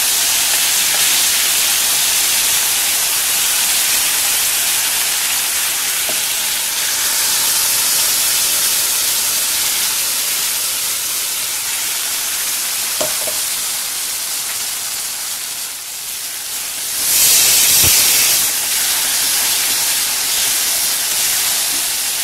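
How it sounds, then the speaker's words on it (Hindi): Spiced masala paste hitting hot oil in a home kitchen, giving a loud, steady, broadband sizzle that holds throughout with a brief flare near the end. "अब हम इसी में जो मसाले पेस्ट किया था वो हम डाल देंगे।"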